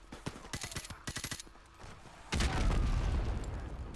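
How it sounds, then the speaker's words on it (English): A grenade explosion in Call of Duty Modern Warfare Remastered: a sudden loud, broad blast that rolls into a sustained rumbling roar, following a stretch of rapid gunfire bursts. "He just blew himself up."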